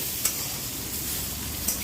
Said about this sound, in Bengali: আবারও আমি 2 মিনিট মতন ঢাকা দিয়ে নাড়াচাড়া করে ভেজে নেব, যাতে কিছুটা হয়ে যায়